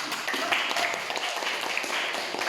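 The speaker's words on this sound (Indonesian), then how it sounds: "sekali lagi beri tepuk tangan" Brief applause from a classroom audience after a student's presentation at a teacher certification performance test, a short patter of clapping with voices mixed in.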